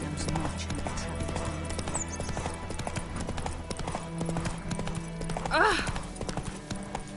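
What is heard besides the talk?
horse galloping, clip-clop of hooves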